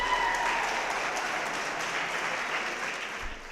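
Applause from the floor of a state Senate chamber after the deciding 36th vote on a teacher pay deal, a steady dense patter of many hands that holds evenly for a few seconds, moderately far and a little muffled.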